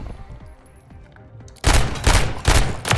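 A pistol fires warning shots in a shooter video game: a quick volley of four or five loud, close bangs after a quiet lead-in.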